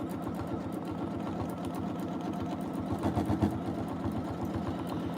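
Domestic sewing machine running steadily at speed during free motion quilting of feathers and swirls on a quilt, a continuous close rapid needle chatter with a slight surge midway and no talk.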